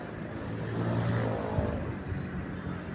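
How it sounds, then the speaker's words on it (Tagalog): Steady highway traffic in Saudi Arabia, a soft continuous rumble of cars with one swelling pass in the middle, distant and fairly quiet, no voices. "So doon ang highway guys"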